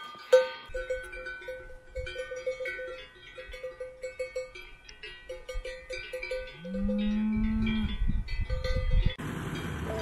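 Cowbells clang repeatedly in a steady jangling rhythm on a mountain road in the Western Alps, with a cow letting out a long low moo partway through and a louder rustling burst near the end.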